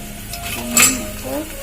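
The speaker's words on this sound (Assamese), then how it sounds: "কাটি ৰখা পাচলিখিনি গোটেইখিনি দি দিছোঁ" Chopped vegetables, including carrots, go into a cooking pot with browned onions for veg pulao, bringing a clatter of utensil against metal, a rising sizzle and light stirring, close and fairly loud.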